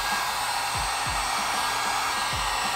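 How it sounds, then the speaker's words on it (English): A heat gun heating a car emblem blows a steady, loud rush of hot air close by, with faint low thumps repeating under the continuous roar. "I'm gonna grab the heat gun and heat the emblem"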